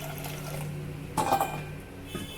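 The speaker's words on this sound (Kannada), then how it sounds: "ಒಂದು 2 ಗ್ಲಾಸ್ ಅಷ್ಟು ನೀರು ಹಾಕೋತಿದ್ದೀನಿ." About two glasses of water are poured into a cooking pot on a gas stove, a brief close splash and gurgle lasting under a second, over a steady low hum.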